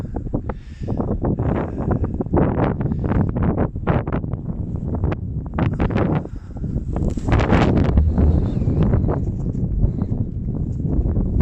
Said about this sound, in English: it's getting a bit windy, isn't it?